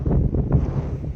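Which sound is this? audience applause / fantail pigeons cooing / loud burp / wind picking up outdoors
wind picking up outdoors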